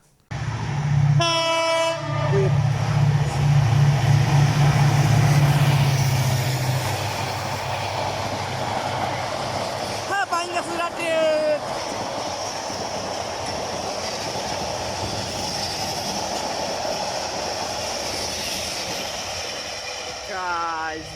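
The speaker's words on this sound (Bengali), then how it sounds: "প্রবল গতির বেগ নিয়ে ঢাকা থেকে ছেড়ে আসা চট্টগ্রাম অভিমুখী চট্টলা এক্সপ্রেস কিন্তু ময়নামতি রেলওয়ে স্টেশনে চলে আসলো।" The Chattala Express, running from Dhaka toward Chittagong, speeds through Mainamati railway station: a loud horn blast opens over a heavy rolling roar, followed by rhythmic wheel clatter and further horn sounds as the train passes close by.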